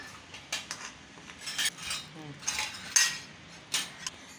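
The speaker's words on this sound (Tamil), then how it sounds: "இது எல்லாத்தையும் சேர்த்துட்டு நல்லா கலந்துருங்க" A metal spoon mixes fried cashews and raisins into sweet rock-sugar rice in a pan, making sharp, irregular clinks and scrapes that come close up in short bursts with quiet gaps between.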